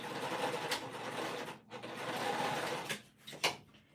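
A sewing machine stitches over basting on a winter crescent bag, close continuous whirring with short dips and a stop-start near the end.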